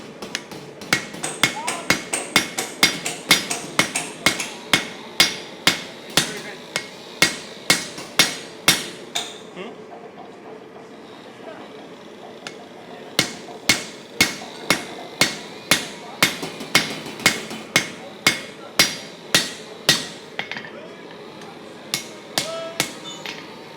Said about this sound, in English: I'm just going to start with the round face of my hammer.